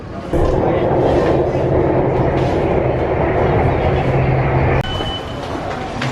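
Loud rumbling of a metro train in a station in Thailand, a steady low roar with rattling, shifting slightly near the end as it changes pace.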